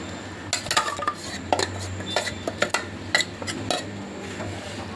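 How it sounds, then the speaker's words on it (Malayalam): A spoon clinks and scrapes against a metal curry pot as masala is poured in and stirred, a series of sharp irregular metallic taps over a quiet background, with no talking. "മസാല റെഡിയായി, ഇതിലേക്ക് ഒഴിക്കുക."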